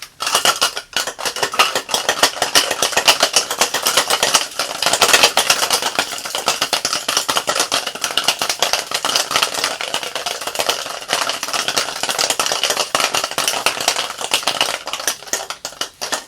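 A cocktail shaker holding one big block of slightly wet ice rattles in steady fast strokes, a loud, dense clatter running continuously for about sixteen seconds with no talk over it.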